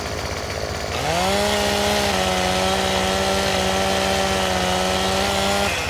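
A chainsaw starts up and revs to a steady, loud, sustained whine while cutting a tree in the farming video game Farming Simulator 17, with no talk over it.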